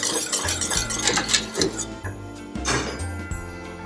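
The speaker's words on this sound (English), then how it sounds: "we're just going to whisk in the cornstarch" Cornstarch being whisked into a ham glaze in a pot, the whisk rattling and clinking steadily against the metal with an uneven, busy rhythm, close and fairly loud, with a faint sizzle underneath.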